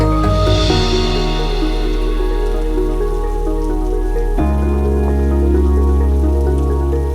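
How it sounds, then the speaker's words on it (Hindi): Dukkarkada waterfall near Kolhapur, rainwater pouring over large rocks in a steady, loud, close rushing roar that stays continuous, with a sudden shift in tone partway through. "यहाँ पहाड़ों से बारिश की पानी बड़े चट्टानों से नीचे गिरता है।"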